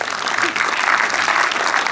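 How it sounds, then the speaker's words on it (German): Audience applause at a humorous premiere of a documentary picture show, a dense, even wash of clapping lasting about two seconds, fairly loud and steady with no clear speech over it. "Der kriegt einen Applaus,"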